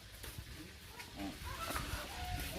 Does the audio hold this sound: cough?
no